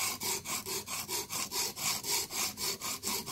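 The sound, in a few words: sharpening knife heel on Blitz 360 whetstone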